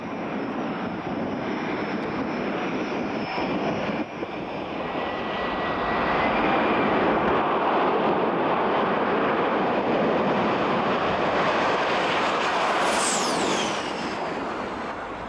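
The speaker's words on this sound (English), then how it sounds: "nothing compares to the jet cars" A loud, continuous jet dragster engine roar that swells and sustains, broadband and powerful, with no voices.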